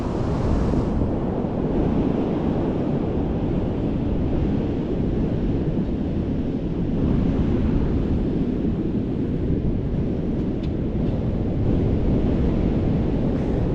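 Heavy surf from high waves in hazardous seas roars continuously, a dense, rumbling wash of breaking waves mixed with wind buffeting close to the microphone.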